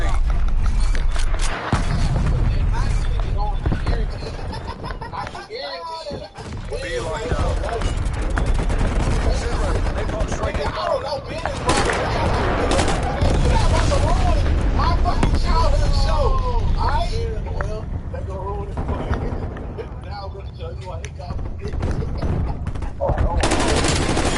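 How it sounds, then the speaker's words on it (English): Call of Duty gunfire with automatic weapons and artillery fire, dense rattling bursts and booms running almost continuously at loud level, mixed with game voice callouts and a talking player. "Hostile artillery targeting objective. Net call. Incoming artillery."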